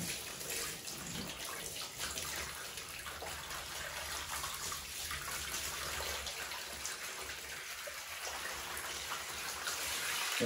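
Tap water runs steadily into a monitor lizard's bathing basin, a continuous splashing gush with a faint trickle, holding at an even level throughout.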